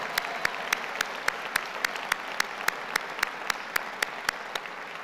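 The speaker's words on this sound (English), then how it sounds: "Let's hear a round of applause for all of the staff and employees of this school." Sparse, evenly spaced claps ring out in a large hall at a university commencement ceremony, a thin round of applause for school staff and employees, fairly distant and without speech.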